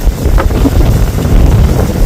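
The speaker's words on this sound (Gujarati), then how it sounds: "બહુ છે પવન, અતિશય વધારે." Very strong wind near the sea and desert edge buffets the microphone in loud, low, rumbling gusts that roar continuously, with no voices.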